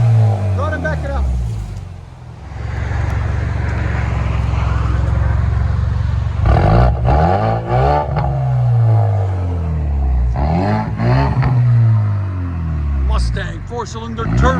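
A 2020 Ford Mustang with a four-cylinder EcoBoost turbo engine and Flowmaster Outlaw cat-back exhaust, loud and close, with a deep droning idle and several rising revs that drop back down, while a person talks over it.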